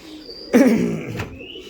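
A Habshi pigeon at a breeder's loft gives a single throaty, rolling coo, close and clear against a quiet background.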